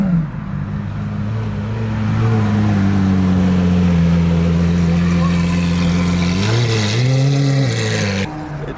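A Lamborghini engine at a cars and coffee meet holds a steady low drone, then blips upward in pitch around the end, with crowd chatter and voices underneath throughout.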